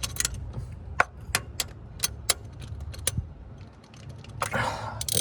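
A spark plug socket being wiggled free from the engine of a 2004 Honda Accord: a series of sharp metallic clicks and rattles at irregular intervals, close and fairly quiet, ending in a rougher scraping clatter.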